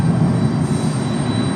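Aer Lingus airliner approaching Raleigh Durham airport on its west side at about 7,100 feet, a steady, loud engine roar with a low rumble that holds evenly and stays close throughout.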